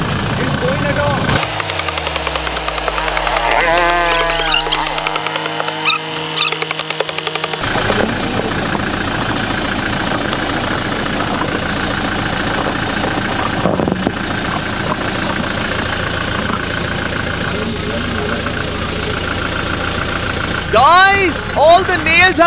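A Toyota Fortuner SUV's engine idles and rumbles steadily as it creeps forward onto nails laid out for a tyre puncture test, with a loud mechanical drone and shifting tones under frequent voices directing the driver.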